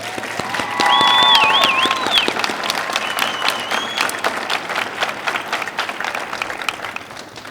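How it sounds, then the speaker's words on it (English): Graduation ceremony crowd applauding award winners in a cadet class, a full, sustained round of clapping swelling early then holding steady, with a few whistles or cheers rising briefly over it. "I'd like to do one more round of applause for all of our award winners today."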